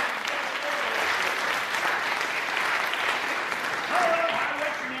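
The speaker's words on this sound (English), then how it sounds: "Give him a big round of applause." An audience at a Dickens' Christmas magic show in Skaneateles claps for a young volunteer, producing an even, sustained round of applause throughout, heard from a moderate distance.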